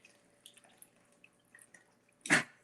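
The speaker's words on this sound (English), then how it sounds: "I'm going to slowly pour in my wet ingredients." Wet batter ingredients poured into a bowl of dry ingredients land in a single short, splashy glug near the end, following a few faint clicks and near silence.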